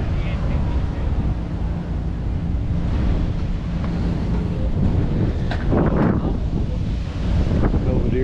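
Strong, cold wind at an outdoor swap meet buffets the microphone in gusts, a loud roaring rush that lasts throughout, with a person speaking over it.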